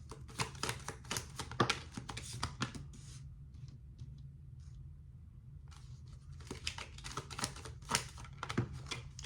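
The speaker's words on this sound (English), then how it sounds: "Getting some cards here, pulling it." Tarot cards being shuffled and pulled, a close, dense run of quick papery riffles and flicks that pauses briefly midway and then resumes, with no talking.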